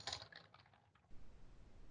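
Keys clatter on a computer keyboard beside a Yealink CP900 speakerphone with noise cancelling. A quick run of close keystrokes lasts about a second, then the sound drops to a quiet steady hiss.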